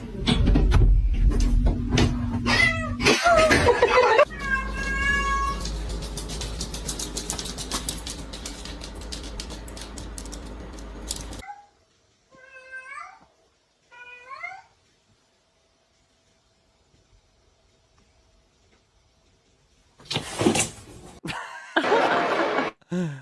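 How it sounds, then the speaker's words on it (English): A cat meows loudly and repeatedly amid noisy background sound, followed by a quieter stretch with a few short meows, then another loud burst at the end. "My cat will meow at the door"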